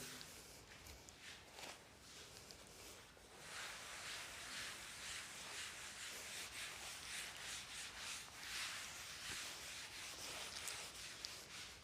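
A classroom board being rubbed clean, a faint, steady scrubbing swish that continues in repeated strokes.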